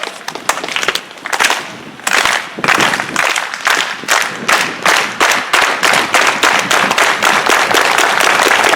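Crowd at a Salinas, California city budget community rally claps in a steady unison rhythm for a 'si se puede' chant, loud sharp repeated claps growing more regular, with few voices.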